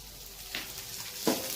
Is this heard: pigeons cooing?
no